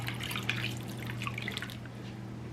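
Water trickles and splashes steadily into a pot, a soft continuous pouring sound over a low background hum.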